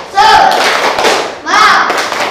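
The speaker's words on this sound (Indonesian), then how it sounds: "Tepuk semangat." Two rhythmic bursts of group clapping, a 'tepuk semangat' spirit clap, ring out loud and close in a patterned sequence, with voices chanting along.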